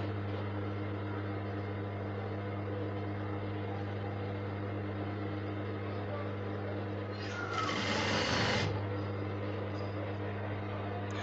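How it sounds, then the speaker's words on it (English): A sewing machine stitches fabric in a steady, faint mechanical hum that runs unbroken, with a brief louder whirring burst near the end and no clear talk over it. "So you keep sewing this way."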